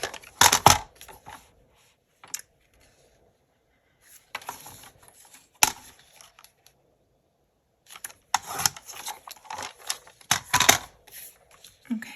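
Trimming sticker paper for a Christmas planner page: close, scattered bursts of dry rustling and snipping paper noise, separated by quiet gaps, with denser handling toward the end.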